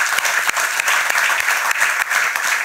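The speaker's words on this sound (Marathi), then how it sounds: "या सगळ्यांसाठी आपण छान जोरदार टाळ्या वाजवूया" An audience at a Page to Stage cultural event claps warmly and continuously, a dense, loud wash of many hands throughout with no voices over it.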